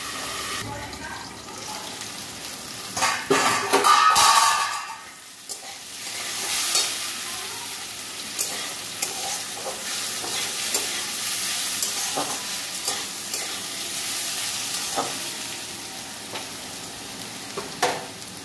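Potatoes for aloo bhaji fry in a covered pan, giving a steady soft sizzle with occasional clatters and stirring noises in a home kitchen; a voice talks briefly over it.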